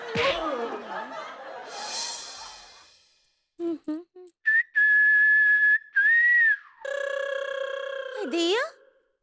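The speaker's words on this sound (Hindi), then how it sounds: "ये सीटी कौन मार रहे हैं?" A person whistles sustained, wavering notes, some steady and some sliding, with brief gaps between them, after people talk briefly at the start.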